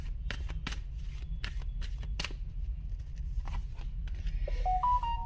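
Tarot cards are shuffled and drawn close up: a run of sharp, crisp riffling snaps early on, then softer card slides and flicks, with a few faint rising electronic tones near the end.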